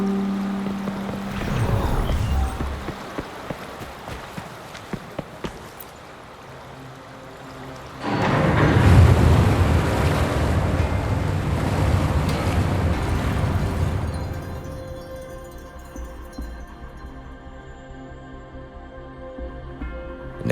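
Water draining away with a heavy rushing, gushing surge in the video game Wuthering Waves, building suddenly midway, roaring loudly for several seconds, then fading into a quieter ambient hum and musical tones.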